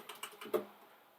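A few quick, soft keystrokes on a computer keyboard, with about four taps in a little over half a second and then a fading tail, close and faint.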